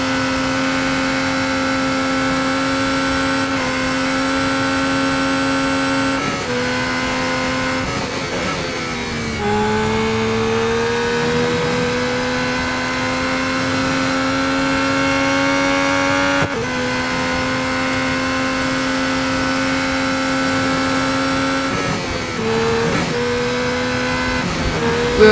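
Formula 1 race car engine from the Real Racing 3 game at the 2021 British Grand Prix, a sustained high-pitched whine holding steady with brief dips and shifts as gears change, loud and continuous.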